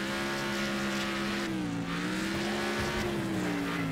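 Race car engine droning steadily in a racing video game, a sustained pitch wavering up and down as another car closes in from behind on a sandy track, loud and continuous.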